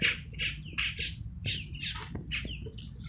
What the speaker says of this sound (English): look at these birds flying, fighting over the tortillas